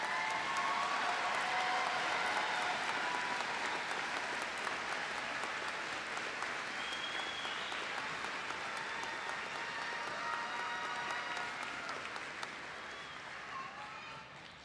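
Sustained applause from a large crowd at a high school graduation ceremony, steady dense clapping filling the hall for the whole stretch and tapering slightly toward the end.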